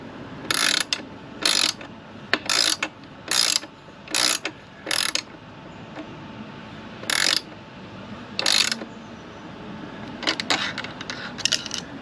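Lock nuts on a chain adjuster tightened with a 17 mm open end wrench: a close series of short ratcheting metallic clicks in bursts, about eight distinct strokes with pauses between them, followed by a cluster of quicker clicks.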